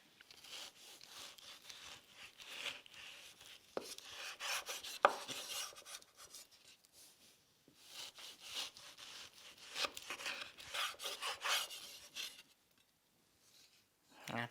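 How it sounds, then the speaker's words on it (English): Knife slicing food into half-inch-thick slices on a cutting board while making spaghetti all'amatriciana, producing repeated scraping, rubbing strokes with brief pauses and a few sharp taps, close and moderately loud. "And now we're gonna do some beautiful slices."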